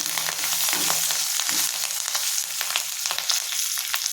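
Tomato and fenugreek leaf chutney ingredients frying in a pan, a steady close hiss of sizzling oil with faint stirring scrapes throughout.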